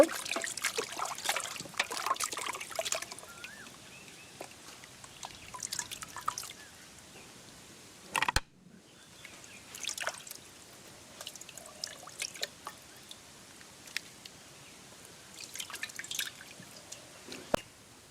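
Pieces of cut beef are washed in running water in a kitchen, with intermittent splashing, dripping and trickling, quiet overall, broken by a brief sharp clatter midway.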